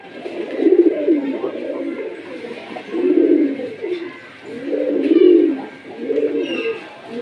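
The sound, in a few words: Giribaz pigeons cooing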